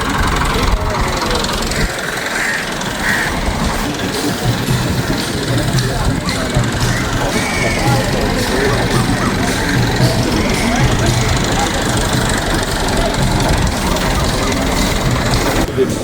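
A garbage collection vehicle's engine rumbles steadily and loudly at a crowded temple gathering with police present, while people talk over it throughout.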